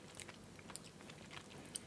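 Close, quiet chewing of a dark chocolate bar with cashew nuts, soft wet mastication with a few sharper bites throughout, no talking.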